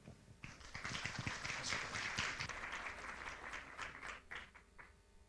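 An audience applauds to welcome a guest doctor at a talk on the side effects of cancer treatment, a dense steady clapping that rises quickly and thins out toward the end.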